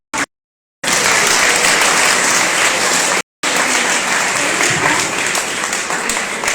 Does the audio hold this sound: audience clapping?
yes